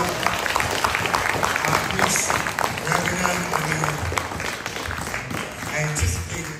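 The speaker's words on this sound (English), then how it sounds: "let's give a round of applause, another round of applause" Loud, continuous clapping fills the room, a dense crowd applauding with some scattered voices mixed in, at a Sabbath worship service.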